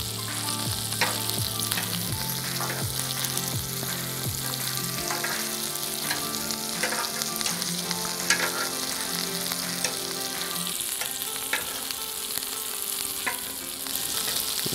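Breakfast food such as hash browns frying on a Blackstone griddle, a loud, continuous close sizzle with occasional scraping and tapping of a spatula against the flat top.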